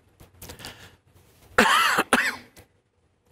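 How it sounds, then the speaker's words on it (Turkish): A man coughs a few times in quick, harsh bursts close to the microphone in a quiet room, with softer throat noise and breathing just before. "Gelirken de inşallah öksürmem falan diyordum ama öksürüyorum arada bir."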